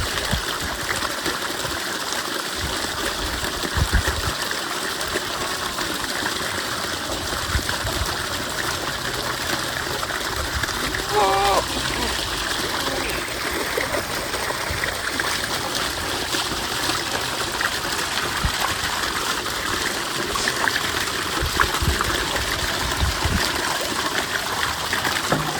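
Water gushing steadily from a motor-driven pump outlet, a continuous broad splashing stream heard close and fairly loud with no talk over it.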